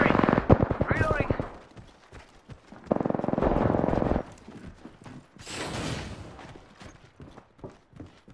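Rapid automatic gunfire from the Apex Legends battle royale shooter, dense bursts of shots in quick succession alternating with pauses, under game voice callouts.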